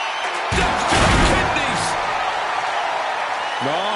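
A heavy ambulance door slams shut in a wrestling video game ambulance match between Jon Moxley and Jinder Mahal, one loud impact followed by roaring arena crowd noise and cheering under game commentary.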